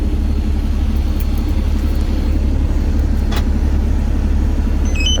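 A semi truck's engine idles steadily after a remote start, a deep continuous diesel rumble that holds at a constant level through the whole stretch, close by, with no voices.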